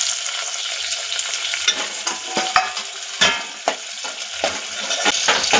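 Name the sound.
sautéing curry leaves, chilies, tomato and coriander in a pan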